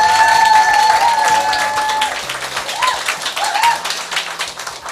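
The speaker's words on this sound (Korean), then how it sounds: "회장님 박수로 환영해 주세요." Audience at a Toronto leaders' meeting clapping to welcome the company chairman, steady crowd applause with sparse tapping and a few whistles, loud and close throughout.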